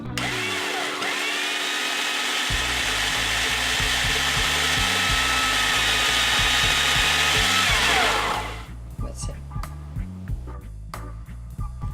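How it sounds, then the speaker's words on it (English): A food processor whirs loudly and continuously, blending hazelnut biscuit crumbs with butter into a paste, then stops abruptly, leaving a few faint knocks and clatters. "So now we're just going to put it back in the food processor with the butter in until it makes a paste."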